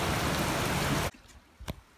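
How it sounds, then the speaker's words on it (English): Rain falls in a steady, dense hiss during a thunderstorm on a cycle tour near Guzelyurt, then cuts off abruptly to near-quiet with a couple of soft knocks. "It's raining and thunder"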